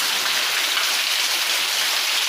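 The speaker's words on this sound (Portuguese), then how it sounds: "Chuva da boa, graças a Deus, né?" Heavy rain pours down in the sertão of Pernambuco, Brazil, in a dense, unbroken hiss, loud and close, with no other sounds.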